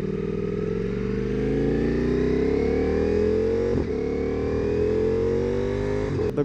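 A Ducati Multistrada motorcycle engine runs close by and rises gradually in pitch as it revs, with a brief dip partway through, loud and continuous with no speech.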